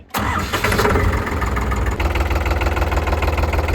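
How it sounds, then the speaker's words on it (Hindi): A tractor used for caravan camping near Manali cranks and fires abruptly, then settles into a loud, steady, rumbling idle with no talking. "ट्रैक्टर स्टार्ट कर लेते हैं"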